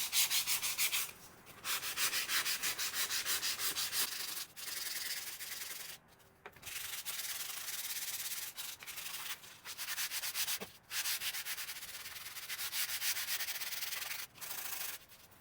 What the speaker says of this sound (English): hand sand it and then flip it over and do the other side